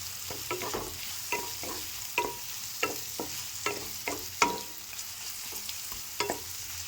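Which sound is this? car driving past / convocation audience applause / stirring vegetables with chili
stirring vegetables with chili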